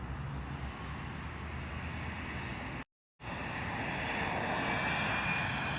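Jet airliner engines roar steadily in Queens, New York, a broad continuous rumble and hiss near the airport, cut by a brief gap of silence before the roar resumes.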